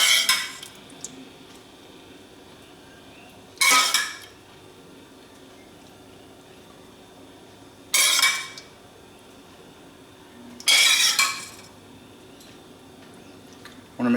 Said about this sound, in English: just spoon a little bit of the sauce over the top of each of them